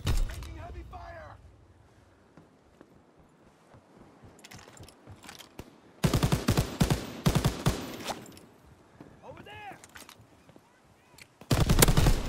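Bursts of rapid, heavy MG 42 machine-gun fire in Call of Duty: WWII erupt loudly in two intense stretches, with quieter shots and voices talking in between.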